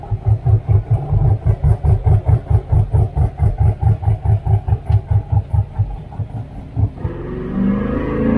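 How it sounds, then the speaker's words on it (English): An Ultima Evolution sports car idles on a dyno with a choppy, lumpy rhythm, loud and close with steady pulsing beats, then the tone changes near the end. Nobody speaks. "There's our choppy idle."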